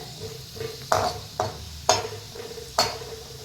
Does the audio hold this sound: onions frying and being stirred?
yes